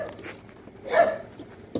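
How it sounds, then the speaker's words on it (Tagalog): A dog barks at night, a single mid-distance bark rising briefly over faint background hum, with a softer yip or whimper nearby. "Dahil dito sa mga aso eh."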